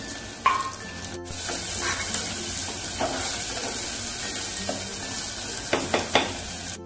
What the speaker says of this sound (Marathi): चांगला कांदा लालसर असा आता परतवून घ्यायचा आहे आधी.